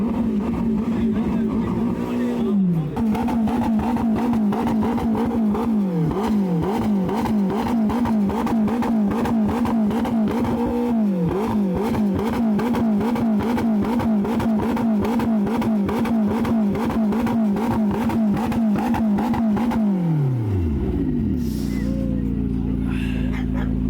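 Loud C8 Corvette engines rev repeatedly up close at a car meet, rising and falling in aggressive bursts over a constant rumble, with a final rev dropping away near the end.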